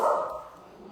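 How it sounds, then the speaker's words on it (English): A pet dog barks excitedly at a UPS delivery man arriving outside, one loud burst up close that trails off quickly, with no talking over it. "So sorry about my dog in the background."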